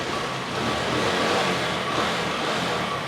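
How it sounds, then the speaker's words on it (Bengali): A used motorcycle engine idles steadily nearby, a continuous loud mechanical hum and rumble with no pauses or revving. "ইঞ্জিনের সাউন্ডটা খুবই ভালো"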